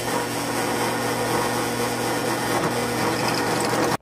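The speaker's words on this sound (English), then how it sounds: "make sure that you set your limits on your drill so you can actually make a cut with it" A drill cuts steadily for an exhaust manifold build on a Predator 212 engine, giving a loud, continuous whine that holds even for about four seconds and then stops abruptly.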